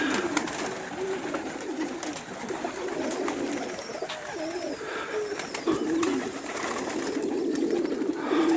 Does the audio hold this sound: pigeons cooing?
yes